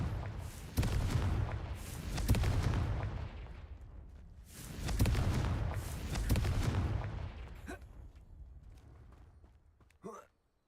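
Confringo blasting curse from a Harry Potter video game: a series of heavy booming explosions in several loud bursts, each rumbling then fading, ending with a short sharp crack near the close.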